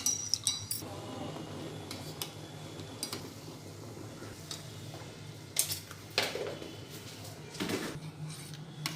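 A spoon stirring boiled barley water in a pot, giving faint, irregular metallic clinks and scrapes against the vessel with a low background hum and no talking.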